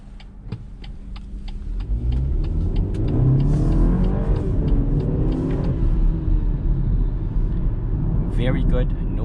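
A 2021 BMW X1 with xDrive all-wheel drive pulls away hard in sport mode, its engine rumbling and rising in pitch as it accelerates, loud and steady inside the cabin.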